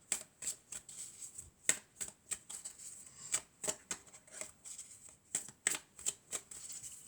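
Tarot-style oracle cards being shuffled by hand in quick bursts of crisp riffling and flicking, close and fairly quiet, with short pauses between the runs of snaps.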